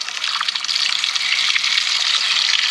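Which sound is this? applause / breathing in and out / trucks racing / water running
water running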